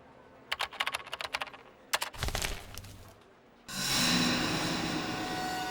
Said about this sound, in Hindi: जरा इसे टाइप करके देखो, AIDA, आइडा